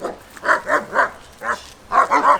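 A German shepherd barks outdoors, six loud, evenly spaced woofs in two quick bursts, close and clear with no talking over them.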